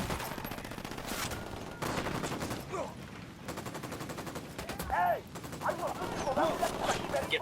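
Automatic gunfire in the video game Ghost Recon Wildlands, with dense rapid bursts and scattered single shots in a steady barrage, under game voices.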